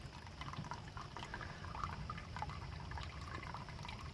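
Water drains from aquaponics buckets holding goldfish and crayfish, a soft, steady trickling and gurgling flow that continues quietly throughout.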